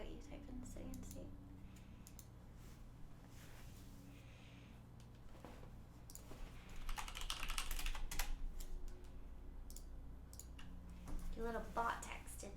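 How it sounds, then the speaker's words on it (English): Keys on a computer keyboard tap out in irregular bursts, slow and hesitant with pauses, close and fairly quiet, with people talking softly at times. "I'm slow typing on this."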